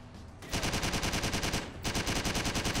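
Machine gun fire in the video game Driv3r: a short burst, then a loud, rapid, sustained rattle of automatic shots that pauses briefly and resumes, with no voices.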